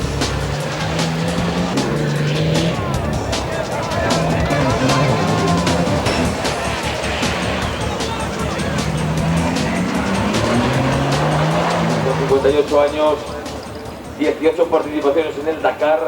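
Toyota rally race car engines roar and rev at speed through the 1999 Dakar Rally course with tires squealing, while a narrator talks over the noise throughout.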